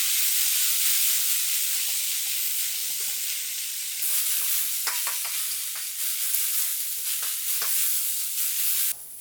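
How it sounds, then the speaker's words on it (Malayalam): Sliced onions sautéing in hot oil with salt for a Kerala-style chicken roast, a steady close sizzle and hiss broken by the scrape and clack of stirring. "കൂടെ 1 ടേബിൾ സ്പൂൺ ഉപ്പ് ചേർത്ത് നല്ലപോലെ ഇളക്കി വഴറ്റിയെടുക്കണം"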